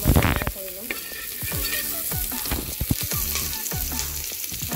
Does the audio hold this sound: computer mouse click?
no